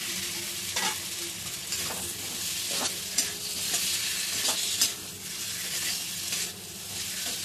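Spiced boiled potatoes being stirred and mixed into curry in a pan, a steady close sizzle broken by repeated spatula scrapes and knocks at an uneven rhythm throughout.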